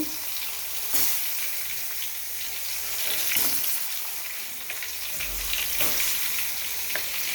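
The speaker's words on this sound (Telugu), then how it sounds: "అన్నీ ఇప్పుడు ఆయిల్లో పెట్టేస్తాను ఇలా ఆయిల్లో కొద్దిసేపు బాగా మసనిస్తాను" Masala-stuffed eggplants fry in hot oil with a loud, steady sizzle and crackle, plus a few sharper pops and spatters throughout; no one speaks.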